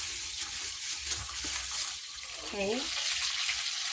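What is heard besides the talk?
food frying in a covered pan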